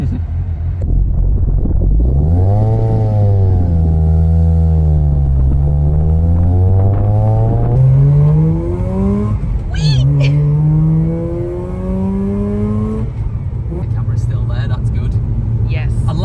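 A tuned, bridgeported Mazda RX-8 rotary engine drives along, its buzzing tone rising and falling through several rev swells and gear changes, loud and close throughout.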